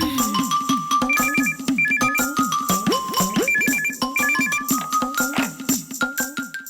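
A phone ringtone plays a bright, repeating electronic melody loud and close, cycling through the same short tune several times with nothing else heard.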